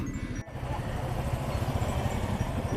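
Motorcycle engine on an all-India family bike ride, a steady mid-pitched drone with wind rush close by as another bike draws alongside to overtake, continuing throughout with a brief dip early on.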